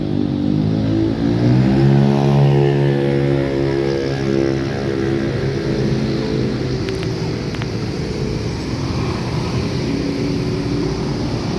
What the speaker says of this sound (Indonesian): Ini bis ada nih Bintang Tamu, Bintang Maju Jaya.